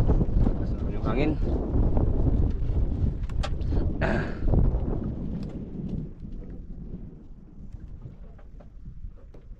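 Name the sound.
wind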